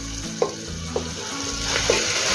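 Soaked rice sizzles and is stir-fried in a pan with a dried fish masala, a steady frying hiss with a low hum and a few light spatula taps at an even pace.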